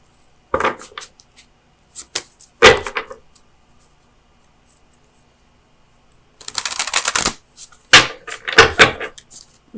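Oracle of Visions cards being shuffled and drawn, with short papery riffles and slaps in bursts separated by quiet pauses, then a longer flurry of shuffling near the end, close and crisp.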